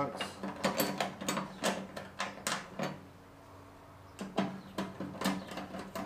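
A screw is driven into the firebox of a Kingsford Stockade 49-inch smoker and grill to hold the lid bracket, giving a series of rhythmic metallic ratcheting bursts, a brief pause, then more turns, close by.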